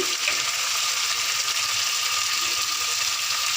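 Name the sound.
stirring and frying spices in a pan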